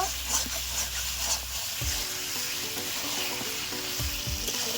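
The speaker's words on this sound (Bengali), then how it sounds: "সুন্দরভাবে নাড়াচাড়া দিয়ে মাংসটা মশলার সঙ্গে মিশিয়ে নেব।" Chicken pieces fry with spices for a rezala curry and are stirred through in the pan. A steady close sizzle is broken by a few dull scrapes and knocks of the spoon, and no one talks.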